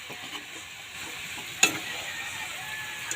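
Adobo with soy sauce sizzles steadily in a pan while being stirred, with one sharp clink of a spoon against the pan partway through.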